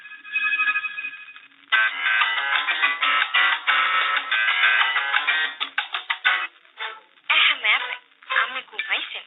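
A phone ringtone rings loud and close in a Bengali drama scene, a melodic tune repeating in bursts throughout, broken by short gaps near the end.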